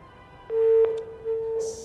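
A disconnected telephone call gives a steady busy tone with brief clicks, heard close and clear on the line.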